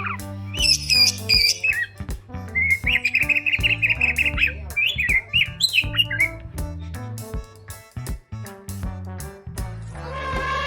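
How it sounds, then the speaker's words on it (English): Songbird chirping with a rapid run of bright, high tweets and whistled phrases over a steady low hum, repeating and fairly loud throughout, with no talk. "B-I-R-D. Bird."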